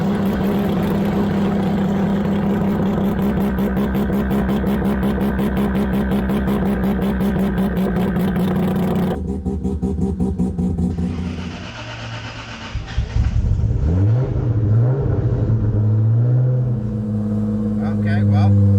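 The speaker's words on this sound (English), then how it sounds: "I'm bringing Tim with me this time on the first test drive" Hellcat fitted with a swapped 2JZ engine on its first test drive: a steady loud drone from inside the car, then a quieter spell and renewed revving as it pulls away, with people talking over it.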